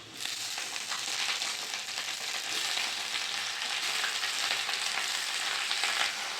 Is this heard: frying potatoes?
yes